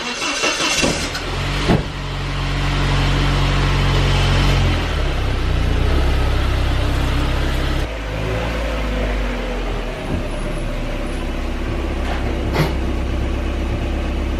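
A Mazda Miata engine idles and revs as the car is driven into a garage, loud and close, with a low rumble that steps down and settles, a couple of brief thumps along the way.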